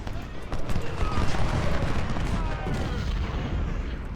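Rifle volleys in the Civil War video game Ultimate General: Civil War form a dense, continuous crackle of gunfire and rumbling booms that stays loud throughout.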